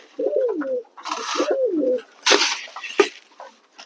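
Blue satin pigeons give repeated rolling coos while feeding, two clear swooping calls followed by flapping and scuffling noises, near and distinct.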